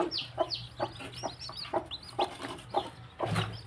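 Clucks and soft calls of a hen with her newly hatched chicks, plus one unhatched egg, recur every half second or so, close by, with high chirps scattered between them.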